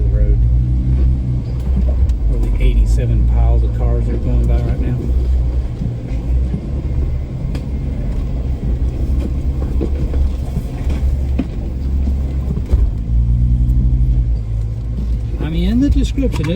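Cars rumble past on a road beside an offroad trail, a steady loud traffic roar with passing vehicle swells, under ongoing talk.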